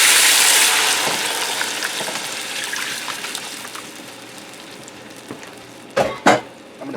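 Reserved potato water poured into a hot meatloaf pan bursts into a loud gushing sizzle that slowly fades to a softer bubbling hiss, ending with a couple of sharp clatters nearby.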